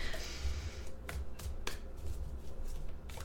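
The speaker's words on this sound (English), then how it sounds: "okay one more shuffle and then we'll start" Tarot cards are shuffled and riffled with soft crisp flutters and a few sharp snaps, close and quiet, with no voices.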